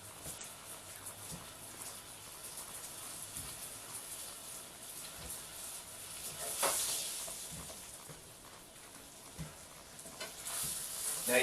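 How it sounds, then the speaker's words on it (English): Beef roulades brown in a pan over medium heat, giving a steady close sizzle and hiss with a few louder spits and pops toward the end. "Now you're going to brown these over medium heat."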